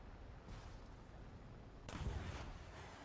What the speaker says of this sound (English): Somebody tried to fire a missile on me.